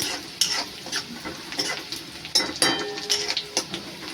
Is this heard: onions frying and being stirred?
yes